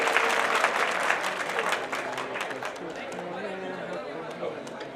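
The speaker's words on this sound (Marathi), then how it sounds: "त्यानंतर जोरदार टाळ्या वाजवून तिचं आपण स्वागत करावं" A school prize-giving audience claps loudly for a student being welcomed to the stage, a dense, sustained round of applause that slowly thins out, with chatter and voices mixed in.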